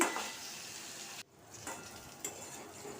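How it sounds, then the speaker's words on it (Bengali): Potato pieces seasoned with salt and turmeric sizzle faintly in a pan. The quiet hiss breaks off briefly, then returns with a couple of small utensil clicks and no voices. "নুন হলুদ দিয়ে আলুটাকে ভাজা করে নিচ্ছি"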